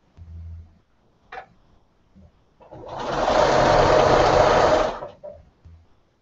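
A sewing machine stitches a chartreuse quilt border in a loud, steady whirring run of about two seconds, framed by a few clicks and quieter moments before and after.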